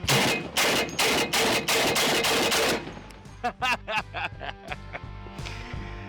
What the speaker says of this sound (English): Time to shoulder fire this big heavy bitch.